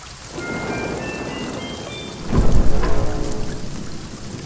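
A thunderstorm in the video game Kingdom Two Crowns brings steady loud rain with a sharp thunderclap partway through that rumbles and fades under the downpour, with no voices.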